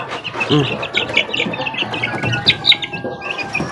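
A chick chirps in quick, high peeps near a feeding dish of egg and vitamins, several short calls scattered across a few seconds alongside soft clucking, close by.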